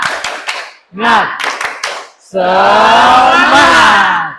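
A class shouts together, then breaks into fast, steady rhythmic clapping mixed with loud cheering voices, close and energetic.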